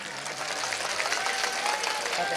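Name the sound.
audience applause at cultural program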